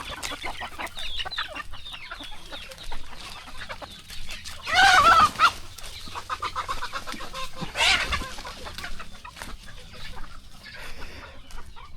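Native chickens and roosters at feeding time on a farm, fed mixed millet, sorghum and rice, cluck and chatter continuously nearby, with a loud burst of squawking midway and another shorter one later.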